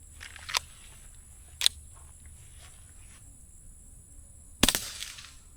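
Three sharp, faint cracks from an FN502 .22 pistol firing CCI Quiet ammunition, widely spaced outdoors, each a brief snap with a short tail.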